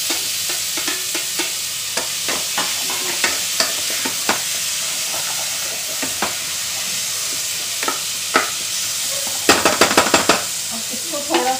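Tomatoes sizzling and frying in a pan with spices, a steady crackle broken by clinking stirring clicks, with a louder burst of scraping near the end; no one speaks.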